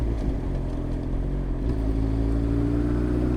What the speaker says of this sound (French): faire un petit test d'agrément de moteur. Reprise en 6 à 35.